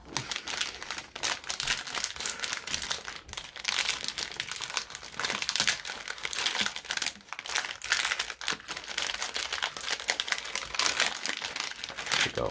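Plastic cello wrapper on a pack of 2022 Mosaic football cards crinkling steadily and densely close up as the pack is opened, a continuous crackle lasting several seconds with no talk.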